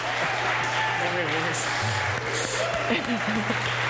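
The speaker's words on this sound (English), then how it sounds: "Stop clapping!" A family entertainment venue on Lakeshore in Milwaukee, with a crowd clapping steadily for a few seconds under a hum of background noise and scattered voices.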